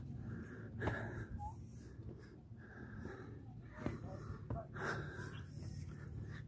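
Heavy, wheezy panting breaths close by, repeating at a roughly steady pace, fairly quiet overall.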